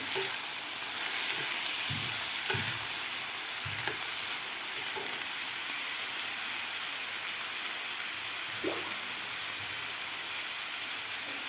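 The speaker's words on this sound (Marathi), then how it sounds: "टोमॅटोसुद्धा आपल्याला व्यवस्थित फ्राय करून घ्यायचे आहेत त्या कांद्याबरोबर" Tomatoes and onions fry together in a pan for a dhaba-style kaju masala. A steady, close sizzle runs throughout, broken by occasional soft stirring scrapes, with no voices.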